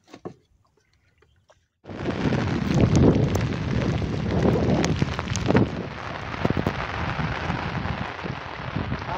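Rain and gusting wind of a village storm lash down in a sudden loud wash that starts after a quiet opening, then hisses steadily with bursts of wind buffeting the microphone.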